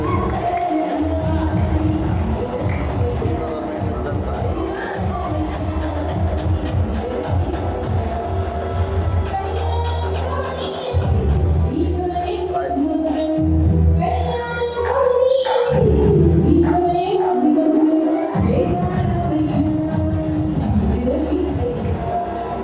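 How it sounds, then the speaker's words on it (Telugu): Wedding guests in Vijayanagaram clapping and cheering as a crowd, a dense, continuous roar of many hands and voices over music, steady and loud throughout with brief surges. "చప్పట్లు"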